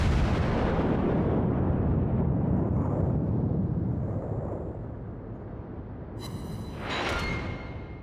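Heavy gunfire and booming artillery blasts fill a video game battle, loud and dense, rolling continuously before easing slightly and then flaring again near the end.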